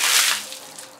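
Water poured over a person's head as a penalty during a summer quiz game, heard as a single close splashing rush of broadband noise that peaks early and fades out over about a second, with no talking.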